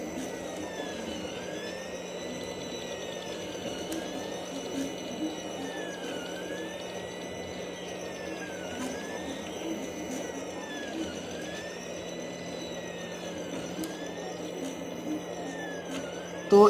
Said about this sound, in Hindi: यहाँ पे 3D प्रिंटर ने काम करना शुरू कर दिया है।